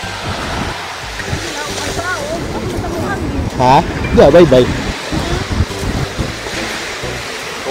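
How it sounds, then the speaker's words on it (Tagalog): Surf washes in steadily on a windy beach, a continuous rushing wash with gusts buffeting the microphone, while several people talk and call out nearby. "Ay, abot na rin ang tubig."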